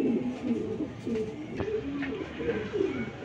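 Racing pigeons coo softly at a pigeon farm, with low repeated burbling calls over a steady background murmur, moderately near.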